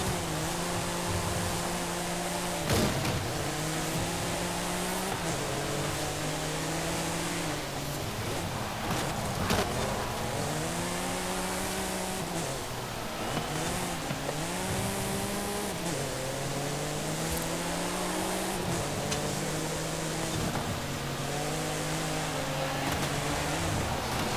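A race car of more than 600 horsepower and barely 3,000 pounds runs fast in a Forza Horizon 5 seasonal championship, its engine revving hard and shifting through gears repeatedly, loud and continuous with rising and falling pitch throughout.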